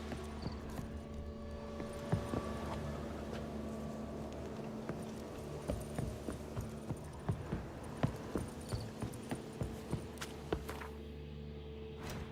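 Horse hooves clip-clop at a steady walking pace in The Witcher game, the evenly spaced hoofbeats clear and fairly close over a low, steady ambient hum.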